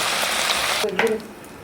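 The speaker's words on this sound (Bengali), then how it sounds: "মাছটা কিন্তু বন্ধুরা দেখুন ভাজা হয়ে গেছে ভালো মতো" Prawns fry in a little oil in a pan, giving a steady bright sizzle that drops away abruptly partway through, followed by a short clatter and quieter hiss.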